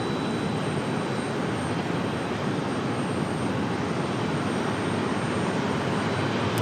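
JetBlue Airbus A320-200 arriving at Raleigh Durham International Airport, a loud steady jet roar filling the whole stretch with no voices, even and unbroken from start to finish.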